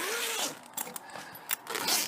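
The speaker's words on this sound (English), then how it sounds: "zipper" A zipper rasps open in short, scratchy pulls, a few quick bursts close by with brief pauses between them.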